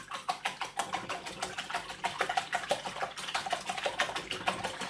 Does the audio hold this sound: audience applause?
no